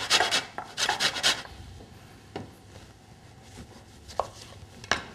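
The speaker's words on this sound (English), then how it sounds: "Just finely grate the zest." Lemon zest finely grated for a lamb dish: a quick run of loud rasping strokes up front, then sparser, softer scrapes and taps.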